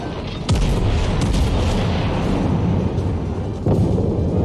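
Warship guns firing in the video game World of Warships, deep loud booming salvos, one near the start and another a few seconds later, each followed by a rumbling roar.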